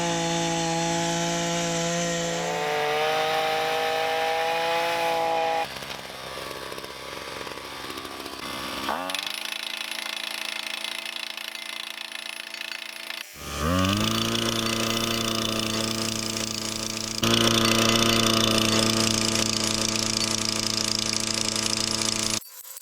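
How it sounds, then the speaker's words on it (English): A powered auger drills post holes in soil with a loud engine whine that rises and falls in pitch as it bites and lightens, running almost continuously. "Pre-drilling the holes about half their depth, just because of the soil composition"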